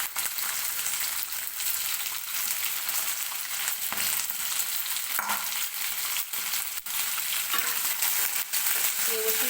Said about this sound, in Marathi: दोन 3 मिनिटे हा बटाटा आणि वाटाणा आपल्याला तेलामध्ये असंच भाजून घ्यायचा